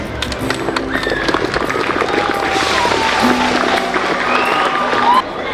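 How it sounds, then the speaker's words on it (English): A crowd applauds the chief guest at a school science and art exhibition function at PMHS, Diphu. The clapping is a dense, steady wash that runs throughout, with voices and scattered calls mixed in. "Let us all give him a huge round of applause."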